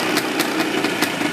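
A 1951 NSU two-stroke motorcycle engine idles nearby with a rapid, uneven popping rhythm and regular sharper pulses, loud and steady throughout.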